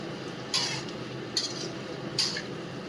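Soybean chunks and potato fry in a pan under a faint steady sizzle, broken by three evenly spaced scrapes of a spatula stirring against the pan, quiet and close.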